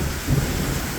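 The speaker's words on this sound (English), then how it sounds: "It's just pouring. Heavy thunder, lightning." Severe May thunderstorm in Austin, Texas, with pouring rain and rolling thunder: a dense, loud wash of heavy rain over a low continuous rumble, no voices.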